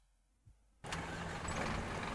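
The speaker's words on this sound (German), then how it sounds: "müssen Sie zuerst den Motor anschalten" A bus engine in Bus Driving Sim 22, driving through Munich, starts after a short quiet stretch with a faint click. It catches abruptly and settles into a loud, steady idle rumble that continues to the end.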